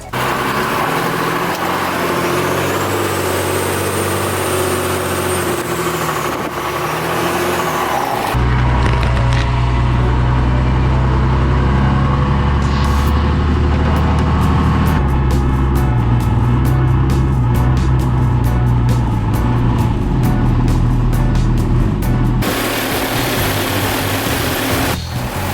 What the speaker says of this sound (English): The truck is running, which is scary.